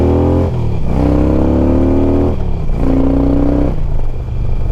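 An 88 cubic inch Harley-Davidson motorcycle engine revs hard and close, its loud throaty roar rising in two strong pulls with a brief dip between, heard on its own.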